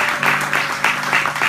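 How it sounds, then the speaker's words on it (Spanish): A congregation at a church service applauds, a short burst of rhythmic clapping in pulsing waves with a low murmur of voices underneath. "Denle un aplauso a Jesús en esta mañana"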